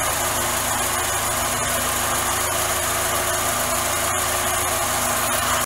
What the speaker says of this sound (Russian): сейчас двигатель работает просто идеально, я вам скажу, на холодную